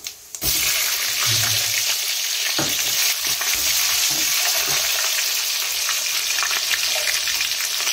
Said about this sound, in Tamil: மிளகு, சீரகம், பெரிய வெங்காயம் ஆட் பண்ணிக்கலாம்.